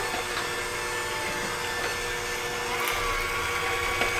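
Electric mixer beating Trinidadian fruit cake batter, also called black cake, a steady close motor whir with faint tonal whine that runs unbroken and nearly even in loudness, with no talking.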